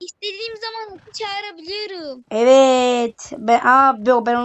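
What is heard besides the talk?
No everyday noise stands out behind the speech.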